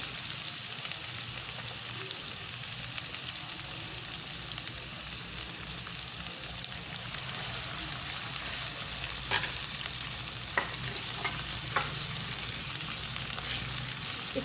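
Chopped onions frying in oil in a pan for aloo gobi, a steady close sizzle with faint crackles and occasional stirring clicks, no talk.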